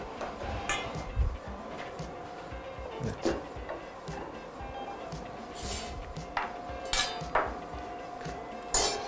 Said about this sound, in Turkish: Ve aynı şekilde karıştırmaya devam ediyoruz.